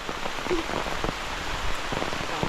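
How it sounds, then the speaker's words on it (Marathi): Steady rain falling outdoors in the countryside during a mushroom-hunting walk, a dense even patter on surfaces throughout, close and continuous with no talk. "पाऊस बघा मस्त पाऊस पडतो"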